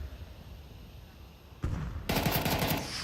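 Counter-Strike match gunfire during a FURIA versus Team Falcons grand final, a burst of rapid automatic shots arriving suddenly after a quiet stretch, loud and dense rattling near the end, no clear talk.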